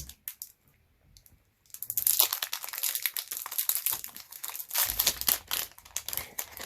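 A thin plastic bag crinkles and rustles loudly and close up for several seconds after a short quiet start, in an unboxing of an Amazon Fire TV Stick 4K.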